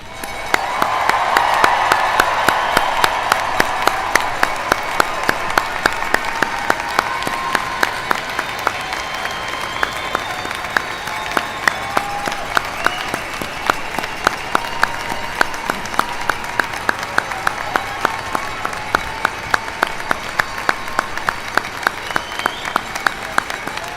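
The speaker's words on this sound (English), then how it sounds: "could you please help me join in a round of applause?" A commencement audience at a spring university graduation ceremony applauds in a sustained round of clapping, steady and dense throughout, with a few voices and cheers mixed in from the crowd.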